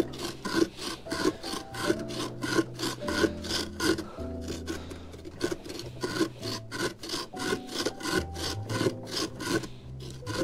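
A pumpkin's insides being scraped out for carving make repeated rhythmic rasping strokes, close and steady throughout, with faint tonal music underneath and no talking.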